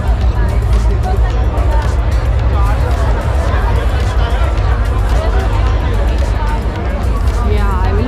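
A dense crowd of runners chatters at the start of the Dubai Run 2022, a loud, continuous babble of many overlapping voices with a steady low rumble underneath and no single voice standing out.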